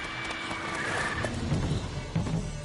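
Roach, the horse in The Witcher 3, gives a whinnying neigh over a busy, noisy game scene with rumbling in the background, and a few hoof clops follow.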